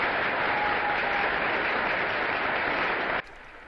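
Warm audience applause at a French political ceremony, a dense, steady clapping crowd that cuts off abruptly near the end.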